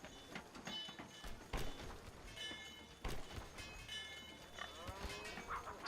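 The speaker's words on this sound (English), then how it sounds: "So I'm just going to let the cow come out. I'll show you the cows coming out." Cattle in the medieval strategy game Medieval Kingdom Wars lowing several times over a busy game soundscape with hoof clatter and clicks, the moos moderately close and fairly loud.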